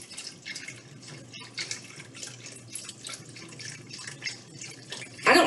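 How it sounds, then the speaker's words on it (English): Homemade chicken broth is poured into a skillet, making a continuous splashing, trickling stream with a brief louder gush at the end. "I'm going to add this broth and just see how much we have"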